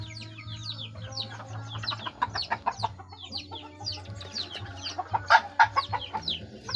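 Chickens cluck and chatter at close range in a breeding area with young birds, repeated short calls over a steady low background hum.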